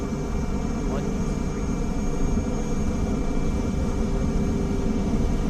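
Aircraft engine roaring steadily during takeoff in a flight simulator game, a constant loud drone with a faint high whine on top and no change in pace across the few seconds.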